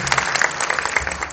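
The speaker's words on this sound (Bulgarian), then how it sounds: "Нека го пляскаме за Христа." Church congregation clapping for Christ at a Christmas service, a lively burst of many hands with uneven, crisp claps rising and falling, crowd murmur underneath.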